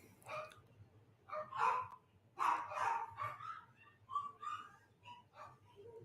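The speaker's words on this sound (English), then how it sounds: "I don't know if y'all could hear the dogs barking in the back." Dogs bark and yip in irregular bursts at a moderate distance, with quieter whimpering sounds between barks.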